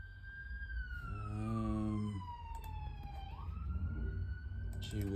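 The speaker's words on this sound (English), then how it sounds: "There's always sirens coming flying out in the street, man." Emergency vehicle sirens wail out on a city street, a loud, steady rising and falling tone passing close by over traffic rumble, with a second siren layering in toward the end.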